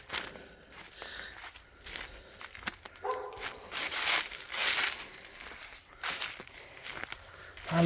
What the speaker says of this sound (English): I know one thing, there's a big dog over there.